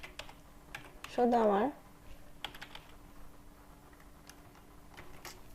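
Soft, scattered keystrokes on a computer keyboard sound close while HTML code is written, with a short spoken phrase partway through.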